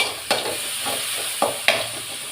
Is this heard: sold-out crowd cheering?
no